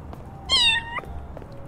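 A single drawn-out meow from a cat in the video game Little Kitty, Big City, clear and close, rising then falling over about half a second against a quiet hum.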